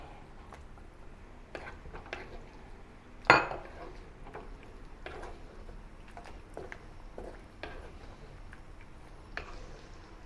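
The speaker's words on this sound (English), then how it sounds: "Stir slowly to thicken the gravy." A spoon scrapes and clinks against a pan while cornstarch slurry is stirred into gravy for sesame oil chicken with ginger, with soft taps and one sharper knock over a low steady background.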